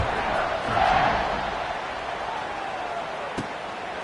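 A large football stadium crowd roars in a steady, broad wash of noise, swelling briefly near the start, with a sharp knock toward the end.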